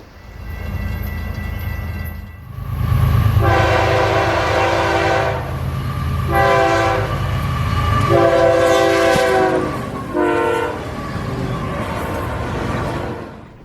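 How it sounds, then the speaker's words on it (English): FEC southbound freight train 107, hauling double-stack containers and piggyback trailers out of Jacksonville, rumbles past close by while sounding several long and short horn blasts over the steady roar of wheels. "FEC southbound double stack and piggyback train 107 heading south out of Jacksonville for Miami"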